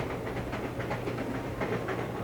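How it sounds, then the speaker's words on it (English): Train ride ambience in the visual novel Hoshizora e Kakeru Hashi, a steady low rumble with soft rhythmic rail clatter, constant and moderately loud with no talk. "here we are on a train"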